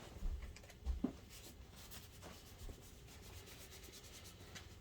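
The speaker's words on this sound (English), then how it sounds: "You wipe that shield off." A cloth wipes the dirty metal shield of an Optoma HD8600 DLP projector, giving a faint, close, soft rubbing with a couple of brief louder knocks near the start.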